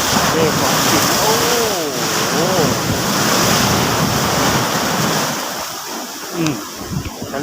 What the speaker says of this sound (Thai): นี่มาถึงทะเล